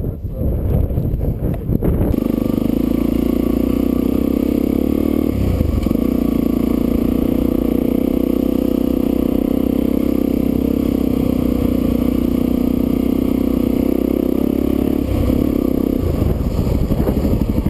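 Dual-sport motorcycles, a Suzuki DR-Z400S and a DR650, ride along a dirt trail, their engines droning steadily and loudly for the whole stretch under heavy wind rush, with a brief dip midway.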